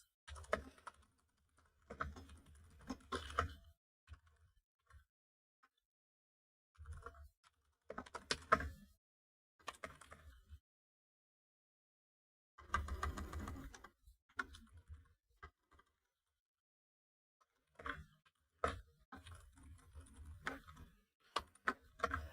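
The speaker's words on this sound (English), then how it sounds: "I meant to type in the chat, typed into my menu." Typing on a computer keyboard during a day-trading session, with bursts of quiet, close key clicks separated by pauses of silence.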